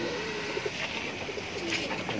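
Several high-flyer pigeons for sale coo softly and repeatedly close by over a steady background hiss, with no speech.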